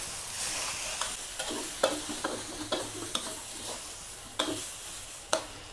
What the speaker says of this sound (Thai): ทำการผัดนะคะ ผัดข้าวไปค่ะ